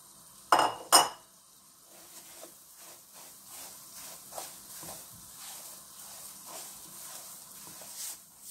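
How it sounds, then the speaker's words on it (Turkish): Shredded kadayif dough is toasted in melted butter in a pan over low heat: two sharp utensil clinks against the pan open, then soft, steady stirring scrapes with a faint sizzle. "Karamel rengi olana kadar kısık ateşte kavurmaya devam ediyorum."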